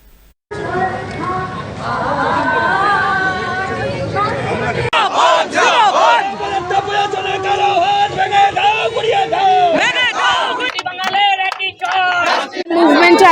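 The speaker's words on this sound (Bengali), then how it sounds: "বারাসাত থানার সামনে রাস্তা অবরোধ করে বিক্ষোভ দেখান লেফটের কর্মীরা তাদের একটাই স্লোগান মুখ্যমন্ত্রীর পদত্যাগ" Left Front protesters blocking the road outside Barasat police station, chanting slogans in loud rhythmic unison, a crowd of voices rising and falling in repeated call-and-response bursts close by.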